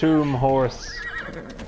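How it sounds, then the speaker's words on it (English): A loud undead tomb horse whinny rings out up close in a video game, followed by a fainter descending call and rustling; the neigh has a strained, eerie tone. "Tomb horse"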